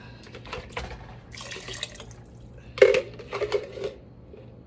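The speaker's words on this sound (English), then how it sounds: "It looks to me like we're going to need a little more broth. So in goes the rest of this." Broth is poured into a pot of sausage and kale soup, giving a few soft close splashes and gurgles in short bursts over a quiet kitchen background.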